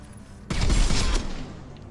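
Gunfire from the video game Mass Effect 2, a single loud burst of weapon fire that booms abruptly and then fades over about a second, with no talk.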